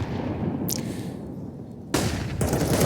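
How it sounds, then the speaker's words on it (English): A flashbang goes off on the Inferno map during a Counter-Strike match, a sharp bright burst standing out over the steady rumble of gameplay and distant gunfire, loud and brief. "good flashbang thrown there by Rare Adam to stop the push on Banana in its tracks"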